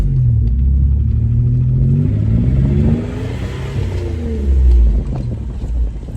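A manual Toyota 4Runner off-roader crawls in four-wheel low, its engine a loud, close rumble with shifting revs that rise and fall, settling briefly before climbing again.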